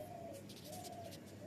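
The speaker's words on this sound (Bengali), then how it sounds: "টু টু করে একটা পাখি ডাকছে" A dove or pigeon cooing in a rooftop garden, soft repeated coo calls at moderate distance over a low background hum, with no voices.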